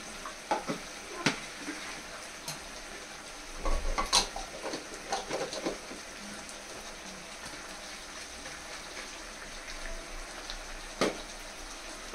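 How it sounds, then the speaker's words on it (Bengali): Melon seeds (chal magaj) with cashew, poppy seed and chicken sizzle quietly in a pan while a spoon stirs and scrapes, giving intermittent clinks and scrapes over a soft, steady frying hiss. "চলো এটাকে ভালো করে কষতে থাকি"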